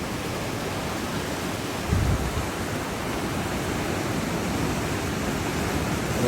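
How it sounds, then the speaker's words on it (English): Ocean waves crash continuously on a Canary Island beach, a dense, broad wash of surf with a louder surge partway through and no voices. "I could just sit and watch these waves for hours."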